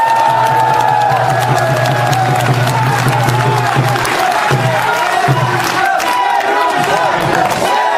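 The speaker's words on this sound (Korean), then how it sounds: "이 두 분 후보님께 힘찬 함성과 박수 부탁드리겠습니다" A crowd at a Korean campaign rally cheers and applauds two candidates, a loud, continuous roar of shouting and clapping with a low sustained hum beneath, holding at full strength throughout.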